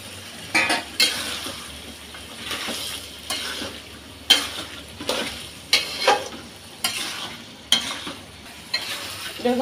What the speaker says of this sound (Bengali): এখন আমি দিয়ে দিচ্ছি বরবটি সিমগুলো